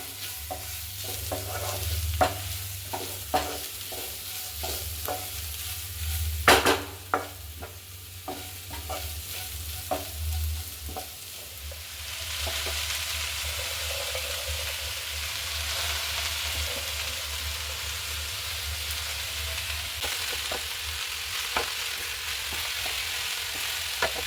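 Spinach and grated coconut fry in a pan with a continuous sizzle that swells louder partway through, broken by repeated spoon scrapes and knocks as the greens are turned over and stirred.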